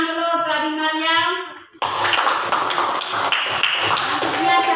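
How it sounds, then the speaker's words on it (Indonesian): In a classroom, a sustained voice gives way to a burst of clapping for a student, steady and fairly close, continuing with light tapping texture to the end. "tepuk tangan dulu tadi Mariam"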